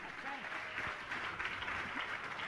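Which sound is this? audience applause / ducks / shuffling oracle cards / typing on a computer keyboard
audience applause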